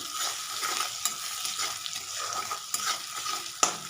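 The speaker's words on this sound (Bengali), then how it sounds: "ভাজা ভাজা করে নিচ্ছি" Chilli paste sizzles in a hot pan while a spoon stirs and scrapes against the metal, making a steady frying hiss broken by sharp clinks.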